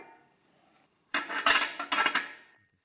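A metal oil pan is set onto a V8 1UZ engine, giving a cluster of clanking and scraping metal knocks that starts abruptly after a near-silent pause, then fades out.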